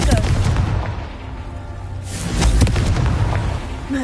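A Confringo spell explosion in the Hogwarts Legacy video game: a loud, deep boom with a rumbling blast that swells again midway and decays, and a voice speaks briefly.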